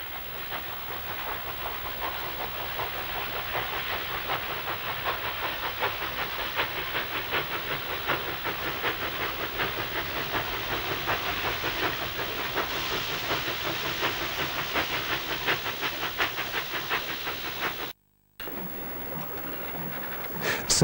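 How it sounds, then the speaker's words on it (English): A 36 class steam locomotive hauls a down stock train through Maitland, a continuous loud rumble and hiss with rapid rhythmic chuffing and wheel clatter, steady and fairly close, with a brief dropout near the end. "Humble duties again for a 36, with a down stock train through Maitland, heading for Werris Creek."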